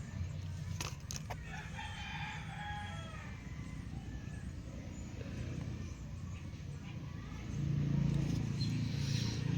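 Rooster crowing in a rural yard, faint and somewhat distant, with clucking fowl around and quiet voices talking in the background.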